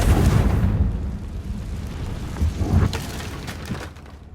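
A deep rumbling blast from the Confringo spell in the Hogwarts Legacy video game, a loud booming burst that rolls off, followed by a second smaller thump as it fades.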